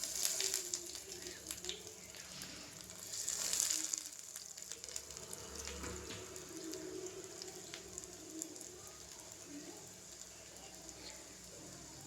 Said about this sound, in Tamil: எண்ணெய் நல்லா சூடாயிடுச்சு. இப்போ நான் 2 கட்லெட்டாக போட்டு எடுத்துக்கிறேன்.